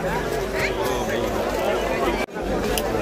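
A dense crowd murmurs at a large Konkan village jatra for Shri Bharadi Devi at Anganewadi, a continuous close hubbub of many voices with one brief dropout near the end.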